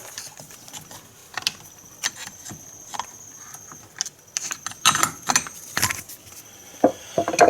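Ratchet clicking as an axle nut is loosened on a Polaris Sportsman 500 ATV during rear axle work, short bursts of metallic clicks and clanks, close and fairly loud, with no talking.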